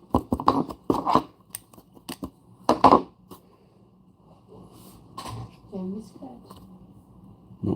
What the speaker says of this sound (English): I took a pair of scissors to it.